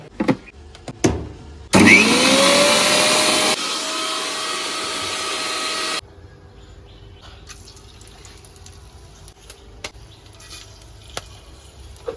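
An electric blender whirs loudly for a few seconds, grinding garlic, ginger and a little cumin into a paste in a home kitchen, its motor pitch dropping midway before cutting off, followed by quiet kitchen clatter.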